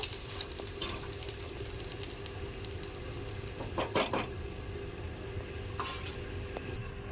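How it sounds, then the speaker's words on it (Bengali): Papad frying in hot oil gives a steady, close sizzling hiss throughout, with occasional light scrapes and clinks from a utensil turning them. "দেখুন লাল লাল হয়েছে কাপড়গুলো সবগুলোই ভেজে নেব"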